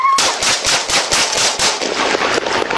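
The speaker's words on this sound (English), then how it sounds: "Shots fired, shots fired." Rapid gunfire during a hostage standoff at a Houston check cashing business, a dense run of loud, sharp shots repeating for nearly three seconds with no pause.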